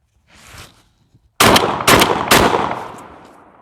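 A Girsan MC312 Sport 12-gauge semi-automatic shotgun fires buckshot in three loud, close blasts in quick succession, each trailing into echo, after a faint rustle.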